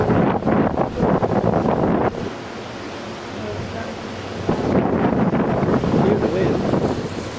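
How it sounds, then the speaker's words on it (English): Strong wind blows across a beach, roaring and buffeting the microphone in loud gusts, easing for a few seconds midway before rising again. "Hear the wind."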